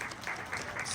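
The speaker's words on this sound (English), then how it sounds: "One more huge round of applause for Chaotic Pony" Dense applause from an audience at a charity auction during a pony fan festival's cider event, a steady wash of many hands clapping together throughout a brief burst.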